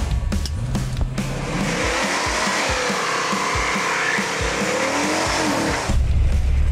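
A 1977 Ford Granada sleeper's engine roars at full throttle in drive, revving up steadily with a rising whine and some tire noise, loud and close throughout.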